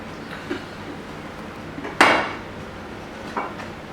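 A French toast casserole with a brown sugar crust is turned out onto a plate: a single sharp clink of dish contact rings out clearly, with a few fainter knocks before and after in a quiet kitchen.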